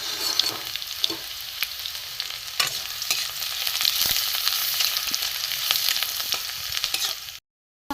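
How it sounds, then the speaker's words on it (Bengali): Chopped garlic sizzles steadily in a little hot mustard oil in a pan, a dense, close crackling frying hiss with occasional stirring clicks that runs unbroken and then cuts off abruptly at the very end. "রসুনটা একটু ভাজা হোক, আর কাঁচা গন্ধটা চলে যাক।"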